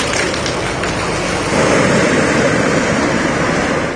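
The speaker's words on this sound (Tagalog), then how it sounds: "May kasabay na pagbayo ng malakas na hangin." Strong typhoon wind in Quezon province roars steadily, a broad rushing noise that swells slightly louder partway through and stays constant, with no voices.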